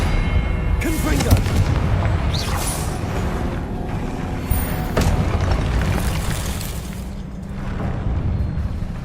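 A Confringo blasting spell going off in Hogwarts Legacy, a loud booming explosion blending into continuous rumbling combat noise and layered game effects, with a voice calling out over the din.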